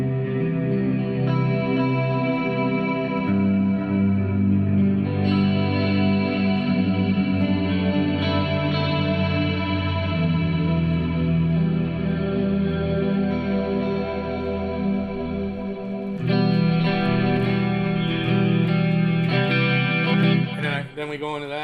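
Guitar through a Marshall 2203 amp with a spooky chorus-style effect, playing a song: a continuous, dense, shimmering wash of sustained chords, loud and steady throughout with a brighter swell near the end.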